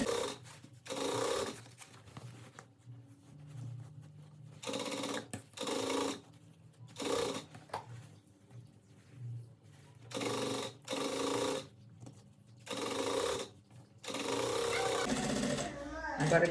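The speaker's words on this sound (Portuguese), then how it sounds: "Agora, a costura de segurança." An industrial sewing machine stitches the safety seam of a bag in repeated short bursts, each run a rapid buzzing chatter separated by pauses, close and clear.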